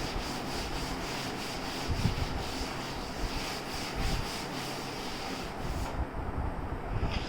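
An eraser rubbed back and forth across a classroom board, a steady dry scrubbing that runs continuously and close up with no voices over it.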